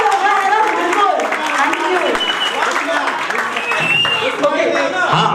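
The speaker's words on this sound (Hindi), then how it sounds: "तालियों और जोरदार से होगा" Audience applause fills a festival hall at the end of a literary conversation session at KLF 2016, a steady dense patter throughout with voices and cheering mixed in over it.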